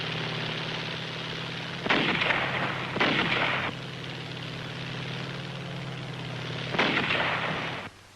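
A World War II artillery battery firing on Iwo Jima, heard as three heavy sustained blasts of booming noise over a constant low rumble, loud and close.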